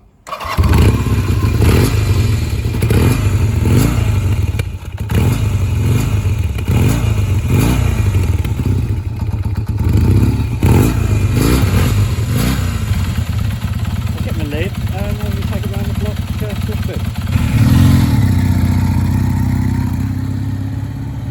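A classic Kawasaki Z440 LTD twin-cylinder motorcycle engine cranks and fires up, then settles into a loud, close, lumpy idle with steady pulses and some mechanical clatter, running throughout.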